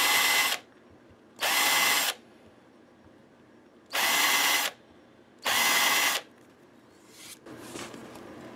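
A power drill fitted with a countersink bit bores into a guitar body in four loud, close bursts of whirring, each under a second long, separated by quiet pauses, with a fainter grinding pass near the end.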